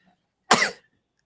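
A single short, sharp sneeze bursts out of near silence, close and fairly loud.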